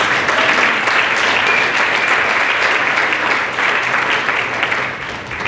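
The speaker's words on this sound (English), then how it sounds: "So I think he owes a big round of applause for doing that" Hearty applause from an audience at the Windsor Shad Derby Coronation Ball honours a 17-year auditor, a dense, loud ovation that holds steady for several seconds before easing slightly at the end.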